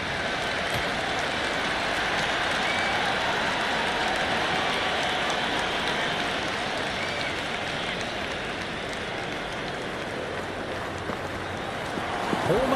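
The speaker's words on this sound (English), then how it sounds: "the crowd is at near bursting point with excitement" A packed cricket stadium crowd in the video game Cricket 26 keeps up a dense, continuous roar of cheering and applause, steady and loud with no individual voices standing out.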